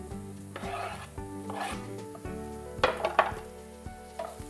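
Cauliflower stalks frying with onions in a pan over high heat, a steady rasping sizzle with scraping stirs and a few sharper clatters near the end, close and moderately loud with no talking.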